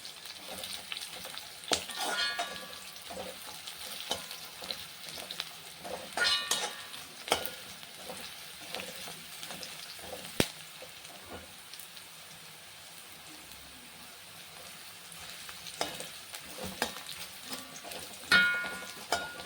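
Shredded cabbage sautés in a pan for a Chettinad-style poriyal, a steady crackling sizzle broken by scraping stirs and occasional sharp clinks of a spoon against the pan.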